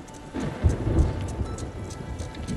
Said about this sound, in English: storm coming in